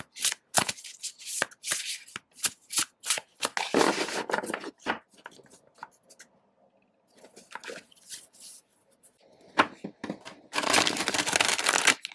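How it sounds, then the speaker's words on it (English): A large tarot deck with smooth, springy cardstock is overhand shuffled in bursts of soft riffling card slaps, repeated packets in quick succession with brief pauses, close and clear. "I can overhand shuffle it"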